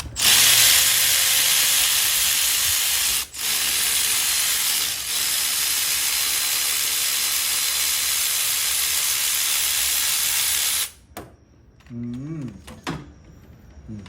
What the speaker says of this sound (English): I'm gonna keep loosening the top one all the way now.